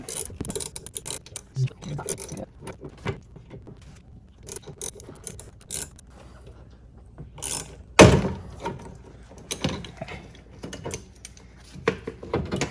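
Wrench working a nut on a BMW M2 camber plate stud, irregular ratcheting clicks and metallic taps with a sharp knock partway through, interspersed with quiet pauses; someone talks in between.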